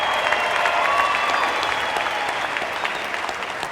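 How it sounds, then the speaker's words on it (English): Sustained audience applause for veterans at a charity car auction, a dense steady clatter of many hands clapping throughout, full and close, with no talk over it. "Let's give them a round of applause."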